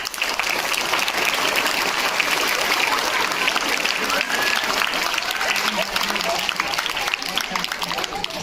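An audience at a school children's festival, Balak Utsav, gives a loud, sustained round of applause for their teachers, with many hands clapping continuously and evenly from start to finish.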